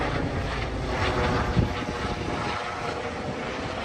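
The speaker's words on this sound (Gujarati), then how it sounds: "હેલિકોપ્ટર આમ જો." A helicopter flies overhead near a flower garden, its engine and rotor noise forming a loud, steady, broad roar that fills the short stretch with a slight swell midway.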